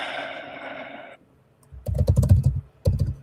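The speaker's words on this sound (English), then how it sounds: "I hear you pounding on the keyboard or something" Someone pounds on a computer keyboard in irregular bursts of heavy, close key strikes after a moment of quiet, with a brief stretch of faint background noise at the start.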